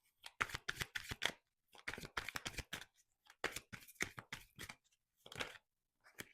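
Tarot cards riffled and shuffled by hand, a run of quick crisp bursts broken by short pauses and a few single flicks, close up and fairly quiet with no talking.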